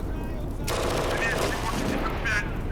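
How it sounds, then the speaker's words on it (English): Rattling bursts of gunfire in the tank video game Steel Fury during an attack on Chernogostie, heard at a distance under a steady engine rumble, with a sharp burst near the start and further volleys following. "Something is being shot at down there."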